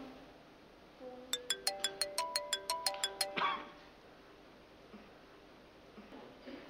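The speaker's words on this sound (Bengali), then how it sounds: "আপনার ফোন বাজে।" A mobile phone ringtone plays a bright, repeating electronic melody of about a dozen quick, evenly spaced notes, loud and close, then cuts off, leaving quiet room tone with no talking.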